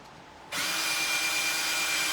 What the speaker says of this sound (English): I got to drill through it.